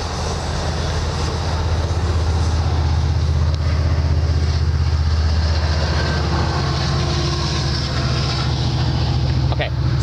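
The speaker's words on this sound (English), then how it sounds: "Hold on, let this train go by." A train rumbles past close by, a steady loud low roar with clattering rail noise holding for the whole stretch, no voices over it.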